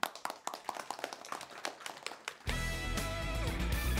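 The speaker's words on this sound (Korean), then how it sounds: "박수" A small group in a rural village claps for a few seconds, uneven and close, before a loud burst of music or noise cuts in over it.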